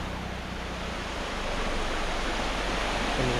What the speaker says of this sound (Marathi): पाणीचा आवाज ऐका एकदम छान वाटतं बघा